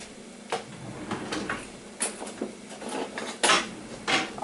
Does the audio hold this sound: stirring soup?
yes